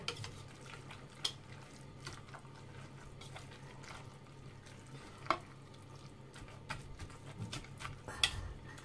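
Stirring frikadelle (Danish meatball) mixture by hand without a mixer, soft wet squelching and occasional spoon clicks against the bowl, faint and close.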